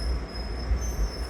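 A PATH train bound for World Trade Center from Newark Penn Station late at night rumbles steadily on its tracks with a low roar and a faint high whine, no voices.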